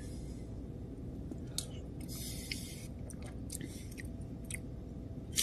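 Close, quiet chewing and small wet mouth clicks while taste-testing Homiah sauce straight from the pan, soft and intermittent with no talking.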